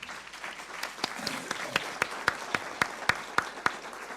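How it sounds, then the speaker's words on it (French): An audience applauds after a talk on alternative and complementary medicine: a light, sparse patter of individual claps at moderate distance, steady and thin throughout, with faint murmuring underneath. "On peut déjà les applaudir tous les deux."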